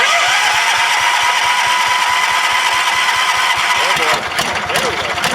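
An old Kohler engine turns over on a cold start, choke on and throttle up, giving a loud, steady rhythmic chugging that rises in pitch near the end.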